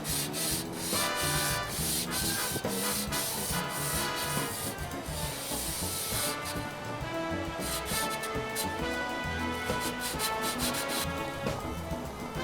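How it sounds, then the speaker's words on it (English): Sandpaper rubs over a steel Sanke beer keg being converted to a bottom-drain vessel, a loud, steady, continuous sanding rasp with a rhythmic back-and-forth pulse. "the finishing stage with a little bit of sandpaper."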